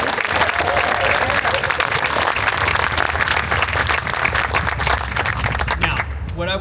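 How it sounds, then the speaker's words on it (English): Loud, sustained applause and cheering from a crowd at a community celebration in a museum in Bonita, steady dense clapping that fades slightly near the end. "So give him a round of applause."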